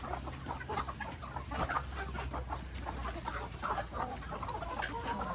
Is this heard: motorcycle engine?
no